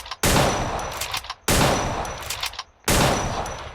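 Three bursts of rapid automatic gunfire from a video game damage test, each a dense, loud volley lasting over a second, separated by short gaps.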